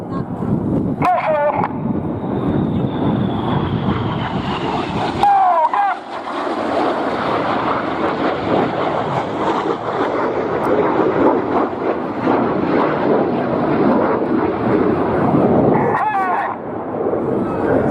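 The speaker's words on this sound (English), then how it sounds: "Leaving full power on the jets. They're pulling away from us now." Red Arrows display jets at the RIAT 2016 air show hold full power as they pull away, giving a loud, continuous broadband roar that slowly shifts in pitch, with commentary talking over it.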